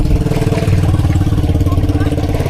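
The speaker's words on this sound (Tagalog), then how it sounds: "Palyado ng mga makina, malon-alon pa man din." A boat engine at sea runs roughly and unevenly, misfiring with an irregular pulsing throb that stays loud and close throughout, with no speech over it.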